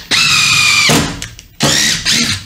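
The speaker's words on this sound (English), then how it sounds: "I'm going to run these screws in and out of this wood about three or four times" A power drill drives deck screws into wood, with two loud whining bursts that each last almost a second, separated by a short pause, and a high steady tone in the first burst.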